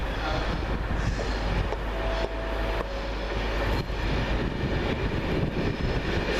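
A Virgin West Coast passenger train from Glasgow Central to London Euston pulls into Carlisle station, a loud, steady rumble of engine and wheels continuing throughout with brief clunks along the way.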